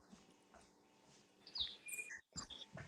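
Birds chirp outside a house at sunrise, with a few sharp, high calls standing out over a faint, steady background, the tweets coming in scattered bursts toward the end.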